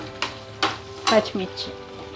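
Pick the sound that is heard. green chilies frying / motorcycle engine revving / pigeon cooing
green chilies frying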